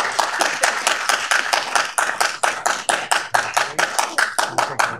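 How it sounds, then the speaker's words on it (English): Hands clap in a steady, even rhythm at a Downey city council meeting, about twenty crisp, close claps over a few seconds with no voices on top. "And you can start applauding now."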